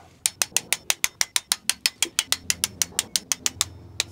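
Ratchet wrench tightening the gearbox screws on a 2nd-generation Renault Mégane 1.9 dCi: a rapid, even run of about twenty loud, close clicks, each a sharp snap, alone.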